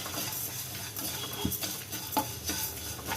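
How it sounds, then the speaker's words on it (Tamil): Betel leaves and curry leaves are stir-roasted in a pan, with steady scraping and light clinks of a utensil against the metal over a soft background sizzle, close by and without talk. "இப்போ இது எல்லாத்தையும் நல்லா வறுத்து எடுத்துக்கலாம்"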